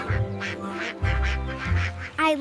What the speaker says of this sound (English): I love the ducks.